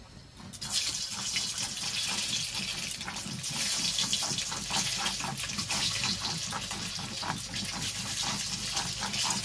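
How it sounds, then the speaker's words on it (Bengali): Eggs coated in salt and turmeric fry in hot oil, a loud, dense, continuous sizzle that starts abruptly and holds steady close up, no voices. "ডিমগুলো দিয়ে দিয়েছি, ডিমগুলো ভাজা হতে থাকবে"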